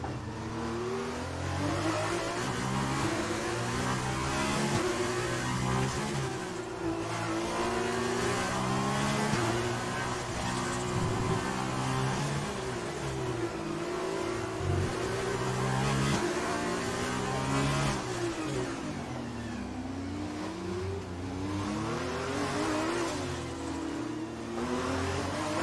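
An F1 race car engine in F1 2020 at Monaco screams close and continuous, climbing and dropping in pitch through upshifts and downshifts under braking and acceleration, with no talk over it.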